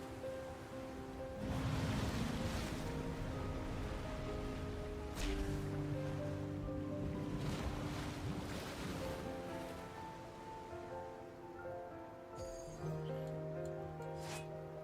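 Water rushing out in the NIKKE x Stellar Blade collaboration game, a surging wash of flowing water in repeated swells beneath a steady tonal music bed, fairly faint and with no voices.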